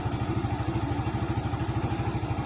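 A Yamaha Jupiter Z motorcycle engine revs steadily with a throbbing, pulsing exhaust beat, loud and close, no voices.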